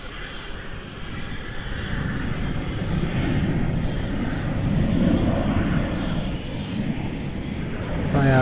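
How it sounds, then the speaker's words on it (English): An Airbus A330 airliner lands at a busy airport, its engine roar swelling and fading in a broad steady wash, with people talking over it. "Nice buttery A330 landing."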